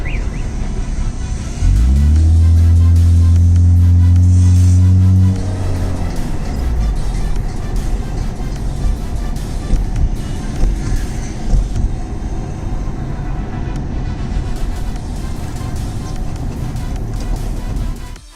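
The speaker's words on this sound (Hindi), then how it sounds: "तो बॉयज़ गाड़ी हम लोगों ने चला के देख ली।" A restored car on a test drive gives a loud, steady droning hum for a few seconds, then settles into continuous rumbling road and engine noise as it keeps moving.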